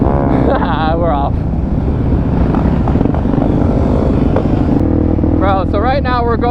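A supermoto motorcycle heading off-road, its engine droning loud and steady close by throughout, with someone talking over it at the start and again near the end.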